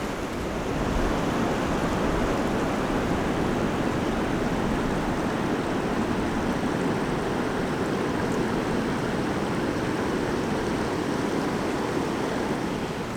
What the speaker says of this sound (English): There's just something especially beautiful about seeing a creek cut through a beach and empty out into the ocean.